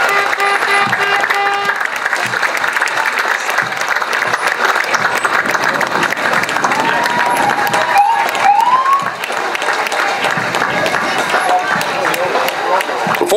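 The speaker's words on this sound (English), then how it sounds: "Give them a big round of applause." An outdoor crowd at an 80th anniversary D-Day parade in Ipswich, Massachusetts, applauds the Coast Guard with sustained clapping and some cheering while voices talk over it.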